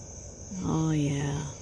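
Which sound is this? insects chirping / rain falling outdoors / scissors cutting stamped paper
insects chirping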